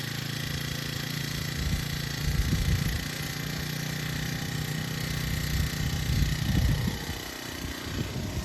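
A four-stroke brush cutter with a new blade fitted runs at a steady idle, its engine drone continuous and close with a few louder revving bursts.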